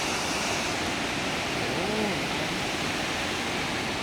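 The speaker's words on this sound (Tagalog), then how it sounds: "Lakas ng tubig." Strong floodwater rushes down the Science Park River in Cabuyao, Laguna, a dense, steady roar of churning water that fills the scene without pause.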